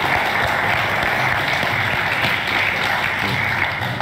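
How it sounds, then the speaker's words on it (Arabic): Audience applause for a performer at the final of the Mazamir Daud Quran recitation contest in Algeria, a dense, steady wash of clapping that fills the room at an even level from start to finish. "تصفيق عليها"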